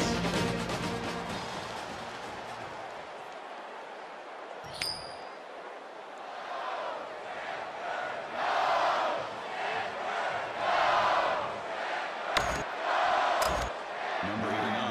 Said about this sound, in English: alive with cheering fans who are anxiously awaiting the start of this one